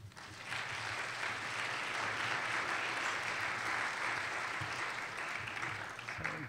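Steady applause from a lecture audience welcoming speaker Joe Halpern, a dense even clatter of many hands that holds for several seconds and tapers slightly at the end.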